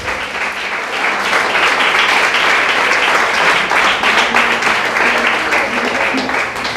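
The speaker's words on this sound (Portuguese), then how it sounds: "Aplauda o nome do Senhor Jesus" A church congregation at a Sunday worship service applauds steadily and loudly throughout, a dense unbroken wash of clapping with a faint murmur of voices mixed in.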